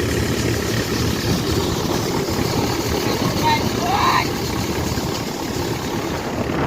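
A tractor works in a chickpea field during harvest, its steady low engine drone running continuously beneath people talking nearby.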